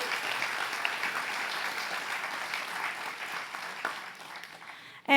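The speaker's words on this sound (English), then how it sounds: "can I get a round of applause for SFJAZZ and their team?" Applause from an audience at the SFJAZZ venue in San Francisco during a town hall forum, a full, steady wash of clapping that thins out near the end before a voice cuts in.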